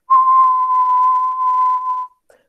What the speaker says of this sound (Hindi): जैसे मैं अभी सीटी बजाता हूँ